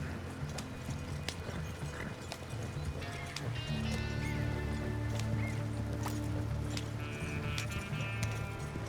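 Horse hooves trot steadily along a path in a video game, a continuous clip-clop rhythm under busy game ambience with a whinny or animal calls and tonal layers mixed in; no talk.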